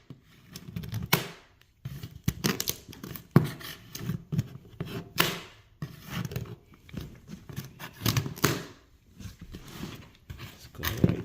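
Cutting open the packaging of a box holding Toyota Avalon rack and pinion and outer tie rod parts, with quiet, close, irregular scraping, slicing and crinkling sounds separated by short pauses.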